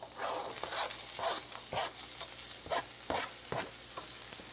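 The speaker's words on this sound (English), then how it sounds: "Okay, I'm going to add in the onions now." Onions fry with green peppers in a pan for sausage scallopini, a continuous close sizzle punctuated by rhythmic stirring scrapes every half second or so, without any voices.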